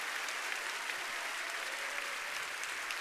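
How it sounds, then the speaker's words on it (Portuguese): A Baptist church congregation at a Sunday morning service applauds in praise, a dense, even roar of clapping from a large crowd that stays steady throughout, with no speech. "Quem crê nisso, dê um aplauso ao Senhor."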